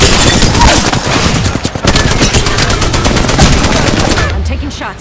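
Rapid automatic gunfire in Apex Legends, loud, close bursts of shots that continue almost nonstop, fading briefly at the very end.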